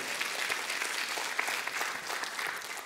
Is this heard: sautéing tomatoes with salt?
no